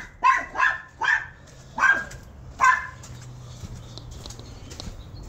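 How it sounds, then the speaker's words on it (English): A neighbor's dog barks five sharp times in quick succession over about three seconds, fairly close, before the yard falls quiet to a low background hum. "Neighbor's dog."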